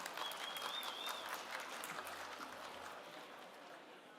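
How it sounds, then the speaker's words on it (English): Applause from a crowd at an outdoor prize presentation for the Finke Desert Race, steady dense clapping that holds for several seconds and slowly thins, with a faint whistle early on. "Let's give them a round of applause."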